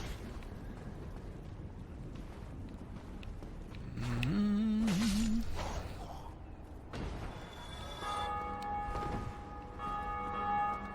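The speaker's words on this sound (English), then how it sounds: "They're still ringing the bell constantly, as though to taunt me." Bell tolling repeatedly in Dark Souls: Remastered, a steady ringing over dense game ambience, with louder tonal bursts partway through.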